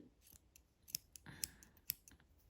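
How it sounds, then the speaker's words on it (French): Scissors cutting crochet yarn, several crisp close snips spaced unevenly over a couple of seconds, quiet surroundings with no voice. "je coupe mon fil"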